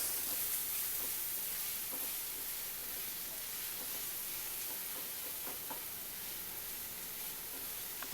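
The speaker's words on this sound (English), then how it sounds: "Fry it for 2 minutes." Ingredients for cheese pasta frying in a pan, a soft, steady hiss and sizzle that runs the whole time, fairly quiet with faint crackles scattered through it.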